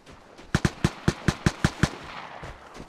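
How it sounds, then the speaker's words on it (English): Rapid burst of about eight loud gunshots from an AK rifle in a Vigor video game match, evenly spaced, then a fainter shot or two near the end, with no talk. "What are you shooting at now?"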